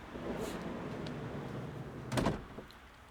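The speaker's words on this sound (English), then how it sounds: "Kind of a sliding front door anyway." Sliding side door of a 2019 Volkswagen California camper van opening: a soft roll against quiet background, then a short louder rumbling clunk as the door runs along its track, followed by faint clicks.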